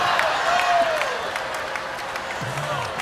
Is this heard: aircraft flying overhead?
no